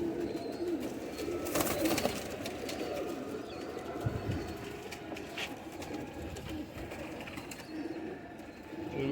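Pigeons coo and flutter in a loft of young flying pigeons, soft repeated cooing close by over a busy outdoor background with faint distant rumble.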